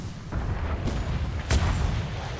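Ship cannons fire in a Royal Navy naval battle game, with two heavy booms close together over a continuous rumbling sea-battle din.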